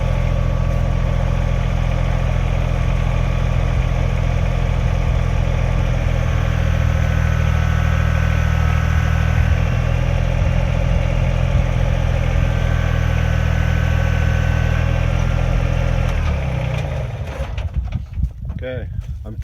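A Kubota BX25 compact tractor's engine idles steadily and loudly up close for most of the stretch, then cuts off near the end, leaving a few quiet knocks.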